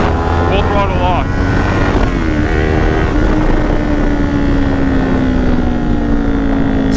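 A motorcycle engine picks up as the throttle opens, a steady droning tone rising gradually in pitch under heavy wind rush, loud and continuous throughout.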